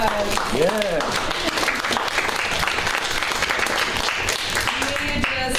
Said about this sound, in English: I would really love a little round of applause.